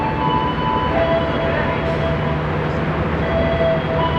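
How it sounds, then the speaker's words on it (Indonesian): Jaka Tingkir economy-class passenger train standing at platform track 3 of a station, giving a steady loud mechanical hum and rumble with faint tonal whines, no voices. "Dan ini dia kereta Jakatingkir udah dipersiapkan di jalur 3"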